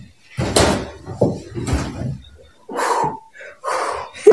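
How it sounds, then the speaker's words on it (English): A door slams somewhere in a creepy house, a few sharp thuds and bangs separated by short gaps, loud and close, with brief rustling and breathy noises between them. "What sounds like a door slamming behind them sends them running straight back upstairs."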